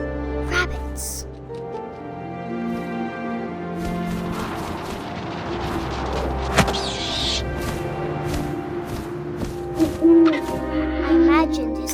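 Owl hoots from What Remains of Edith Finch rise from a layered game soundscape of low drones and wind-like wash, with a few brief sharper accents toward the end.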